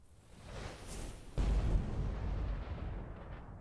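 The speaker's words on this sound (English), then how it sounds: "More artillery coming in." Artillery fire in the Burden of Command war game: a rumbling distant barrage that swells, then a sudden heavy boom followed by a long rolling roar that slowly fades.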